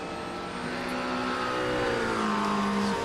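A GT3 race car in the iRacing sim runs over curbs, engine droning loud and steady with shifting pitch as it accelerates, a buzzing rumble from the kerbs beneath, no talk over it.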